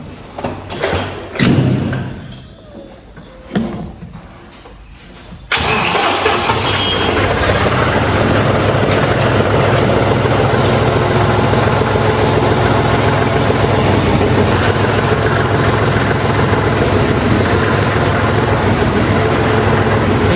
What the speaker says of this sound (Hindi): एक बार चालू करके गियर डाल के देखूँ मैं।